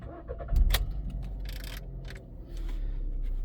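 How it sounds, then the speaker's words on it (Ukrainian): A 2018 Skoda Fabia with a 1.6 engine and automatic gearbox, 162 thousand on the clock, starts up: a brief crank and catch, then a low steady idle heard from inside the cabin. "Запустимо двигун 162 тисячі пробігу."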